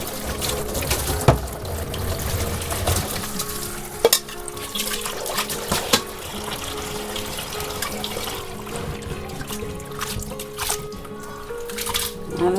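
Prawns being rinsed by hand in a vessel of water, with continuous close sloshing and dripping, a few sharper splashes standing out along the way.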